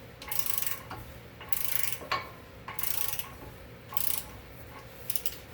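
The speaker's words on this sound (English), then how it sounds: "It's a screw gun, it's not an impact." A screw gun whirs in several short repeated bursts while working on the front hub bearing of a 2015 Dodge Journey Crossroad, each buzzing run close and separated by brief pauses in a garage.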